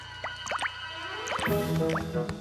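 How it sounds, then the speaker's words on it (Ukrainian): Cartoon water drips from stone formations in a cave, sounding as a quick series of bright, pitched plinks and plops over a low hum, close and clear. "Дивися, кам'яні зуби капають."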